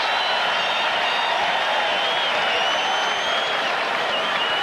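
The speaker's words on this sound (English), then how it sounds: "and the crowd reacts" Baseball crowd at Fenway Park during Game 4 of the 1986 World Series between the Mets and Red Sox, a loud, dense roar of cheering and applause filling the whole moment.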